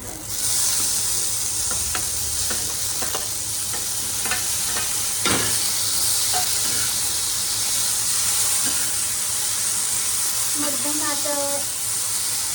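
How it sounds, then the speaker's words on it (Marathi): Tomatoes fry in a pan with garlic, a loud, continuous sizzle close by. Scraping and clicking from the stirring spoon punctuate the hiss, and a brief voice-like sound comes near the end. "त्यानंतर आहे ना टोमॅटो टाकायचं."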